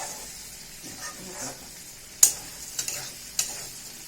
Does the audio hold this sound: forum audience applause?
no